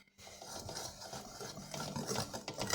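Yogurt cake batter with baking powder, sugar and flour being stirred in a bowl, a steady close scraping and rubbing swish that continues throughout, with no voices.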